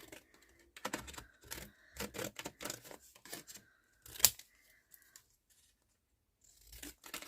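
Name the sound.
scissors cutting around a number cut from a magazine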